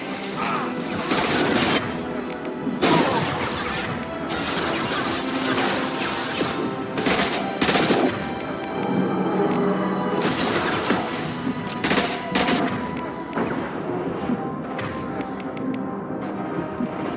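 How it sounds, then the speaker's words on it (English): Continuous dense gunfire and impacts from Mass Effect 2 combat, loud repeated shots and crashes layered with explosions and effects throughout, with no clear speech. "Firing a high-impact shot."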